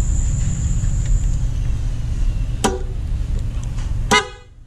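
A short PIAA horn blast on a Yamaha NMAX scooter sounds twice, a brief toot followed by a louder honk, over a low motor rumble.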